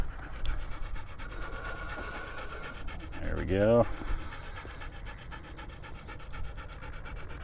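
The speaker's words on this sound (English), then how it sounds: "Sydney is panting. It is hot." Sydney the dog pants hard on a hot July day in southern Utah, with quick rhythmic breaths sitting under outdoor noise while a person talks nearby.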